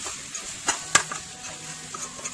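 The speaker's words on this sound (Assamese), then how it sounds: "এইখিনি এতিয়া ভালদৰে অলপ ভাজি ল'ম।" Homemade ground chili powder frying in a pan while cooking chicken, heard as soft intermittent sizzling with a few sharp clicks and utensil scrapes, faint and close with no talk.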